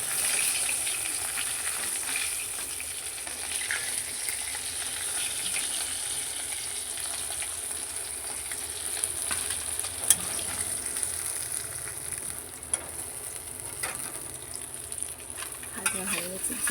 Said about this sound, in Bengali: এইভাবে আমি সবগুলো মাছ ভেজে নেব।